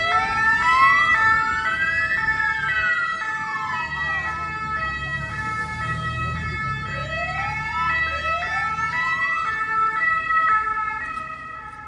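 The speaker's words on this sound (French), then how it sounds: "j'ai remarqué maintenant, ils ont 2 sirènes en même temps" Two wailing sirens sound at once, their overlapping rising and falling tones loud and close over the low rumble of traffic.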